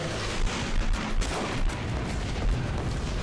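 Carpet bombing in the video game Guns Up: a steady roar of dense, overlapping explosions and rumbling blasts, with occasional louder booms breaking through the continuous barrage.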